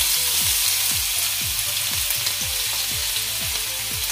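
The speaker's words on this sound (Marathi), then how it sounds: "लसूण असा मस्त असा परतवायचा, तेलामध्ये मस्त फ्राय करायचा" Crushed garlic fries in oil with cumin and asafoetida, a constant loud sizzle under a regular rhythm of about ten spatula strokes scraping the pan, with no voices.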